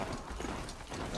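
Horse hooves clip-clop rhythmically in Horizon Zero Dawn while riding, a quick, close trotting beat under a continuous busy game background.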